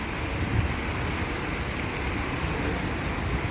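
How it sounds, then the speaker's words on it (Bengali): Fountain water splashing steadily in a city square in Bari, Italy, a broad continuous wash of falling water with no breaks, moderately loud and close, with no voices over it. "দেখতেই পাচ্ছেন কত সুন্দর ঝর্ণাটা কি সুন্দর খেলা করতেছে"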